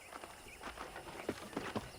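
Horse hooves in the Red Dead Redemption video game, a quiet run of soft clip-clop steps that grows clearer toward the end with several distinct hoof strikes, no talking.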